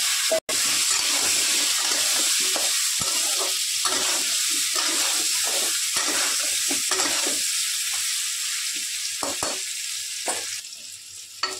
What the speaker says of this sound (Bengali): এগুলো ভালো করে লাল লাল করে ভেজে নেব